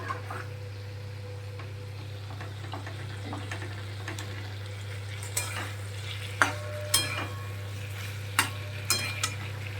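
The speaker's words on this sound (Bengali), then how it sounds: "এই পানিরটা ভাজা একদম ঠিকঠাক হয়েছে ফ্রাইং প্যানে" Paneer frying in a frying pan, a soft continuous sizzle over a steady low hum, with sharp spatula taps and clicks growing more frequent toward the end.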